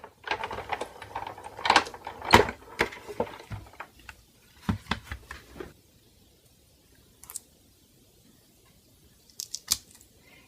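A die cutting machine feeds foam tape through in a run of crisp clicking and crunching bursts, loud at first, then trailing off into a few faint clicks after a quiet gap.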